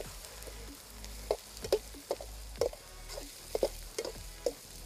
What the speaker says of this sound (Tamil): பாருங்கள் நல்லா வதங்கிட்டு இருக்கு